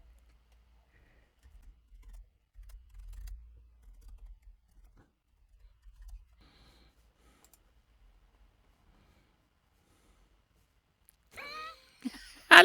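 Soft keystrokes on a computer keyboard come in a few quiet, scattered bursts while someone writes a title and description, followed by near silence and a brief voice at the end.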